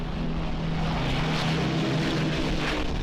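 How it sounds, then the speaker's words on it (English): Rolls-Royce Merlin engines of a Battle of Britain fighter roar in a continuous, loud, close drone with a steady low throb and broad rushing noise, no voices present. "you had the consciousness of being surrounded by this sound of the Merlin engines"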